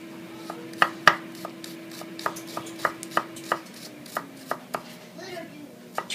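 Garlic being minced with a knife on a cutting board, irregular crisp chops that come in quick bursts and single strokes, close and fairly quiet.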